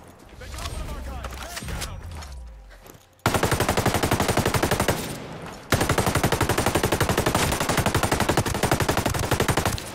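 An MK48 Compact machine gun fires in Ghost Recon Breakpoint, with loud, sustained rapid-fire bursts broken by a short pause. Quieter game sounds and voices come before the shooting starts.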